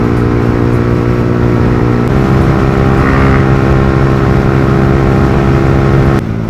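A Yamaha R15 motorcycle with a loud aftermarket exhaust runs close by: a constant, very loud droning engine note that shifts pitch as it revs, with no talk.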